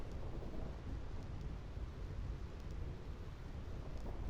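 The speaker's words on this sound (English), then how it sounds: "Get out of the rain, get away from the lightning that could kill you at any time." Steady rain and rumbling thunder in the stormy Thunder Plains of the video game Final Fantasy X, a continuous dense wash of rainfall with low rolling thunder throughout, fairly loud and without talk.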